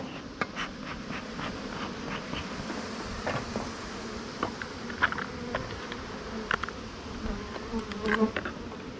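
Bees buzz steadily around a beehive in an outdoor bee yard, a dense droning hum with individual insects flitting close by, rising and passing in brief louder swells.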